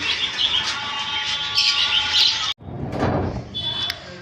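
Pet white patchless conures chirp and tweet at a bird shop, bright repeated calls close by, followed by a short dip and a rustle of movement before the chirping picks up again.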